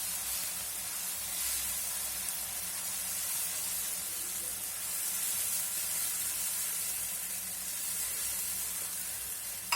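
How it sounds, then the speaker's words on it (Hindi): Tomato paste fries in a pan over a low flame with a steady, soft sizzling hiss. It runs evenly throughout with no talking over it. "फ्लेम लो पे रख के ये फ्राई कीजिएगा।"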